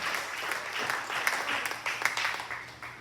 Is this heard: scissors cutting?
no